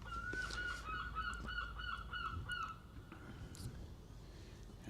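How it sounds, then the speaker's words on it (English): Gulls near a cricket ground call in a quick series of repeated honking cries, fairly faint and distant over steady outdoor ambience, then fall quiet. "Got the local gulls chiming in."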